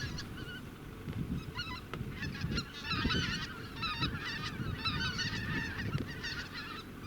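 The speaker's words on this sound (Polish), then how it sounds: "ptaki, które lecą w grupach, często się ze sobą komunikują" A flock of migrating geese honks and calls to one another in flight, overlapping nasal cries repeating irregularly over a low background rumble, moderately distant and fairly faint.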